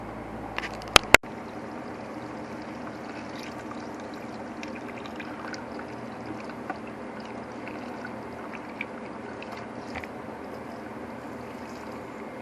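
Fluid splashing and circulating steadily through a homemade parts washer pump, a continuous low watery pour with a couple of sharp clanks near the start.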